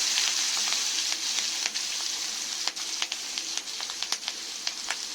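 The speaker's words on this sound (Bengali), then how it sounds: "বাঁধাকপির জন্য আলুগুলোকে ভেজে নিচ্ছি।" Potatoes frying in hot oil in a pan for a Bengali cabbage curry: a loud, continuous close sizzle with occasional sharper crackles and pops, heard alone without talk.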